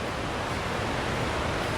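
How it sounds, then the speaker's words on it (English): Steady, dense roar of a waterfall in a natural setting, a continuous broadband rush with no breaks, heard alone at moderate level without any talking. "Oh my God, I see the waterfall."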